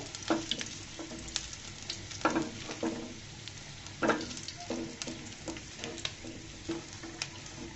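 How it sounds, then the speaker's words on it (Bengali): Raw onions and garlic sizzle and fry in a pan for a Bengali cauliflower bharta, a steady crackling hiss broken by stirring and scraping strokes, fairly close and without any talk. "এই পর্যায়ে আমি কাঁচা পেঁয়াজ আর রসুনগুলোকে উঠিয়ে নেব। ভাজা হয়ে গিয়েছে"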